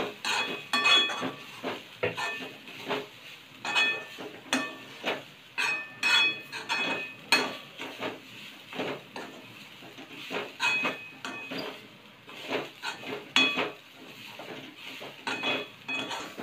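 A utensil scrapes and clinks against a pan in repeated, fairly regular strokes while ingredients for coconut karanji are dry-roasted, with no talking.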